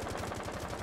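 Short burst of rapid automatic gunfire in a tactical shooter video game, evenly spaced shots, faint and distant.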